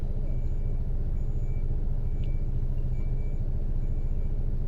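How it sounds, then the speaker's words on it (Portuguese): A truck pulls out and manoeuvres in city traffic in Porto Alegre, heard as a steady low engine rumble with a faint, evenly spaced reversing beep and a brief air hiss, with no talking. "tem um caminhão que tá parado. Agora resolveu sair."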